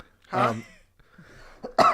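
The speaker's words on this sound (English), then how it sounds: "I'm not editing that cough out" A person coughs once, close and harsh, followed by a quieter throat sound and another short burst near the end.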